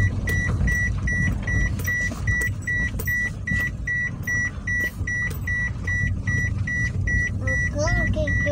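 Rapid, evenly spaced electronic beeps repeat continuously over the rumble of a car engine, with a brief voice near the end.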